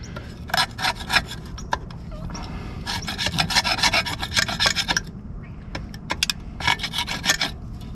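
A scraper works old rust, corrosion and gasket residue off a gasket surface on a 1955 Willys CJ5 Jeep, giving rough, gritty rasping strokes in uneven bursts, close up with no talking.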